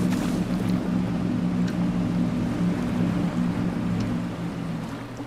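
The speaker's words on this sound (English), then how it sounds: "So far, so good for my amphibious vehicle." A player-built amphibious vehicle moving through water in the Trailmakers building game, with a steady low engine drone and water wash at an even, loud level that eases off slightly at the end.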